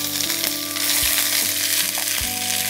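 Chopped ginger sizzles in hot oil for a Punjabi chole masala, a loud, dense crackle with spoon stirring knocks and a steady low hum beneath, no voices.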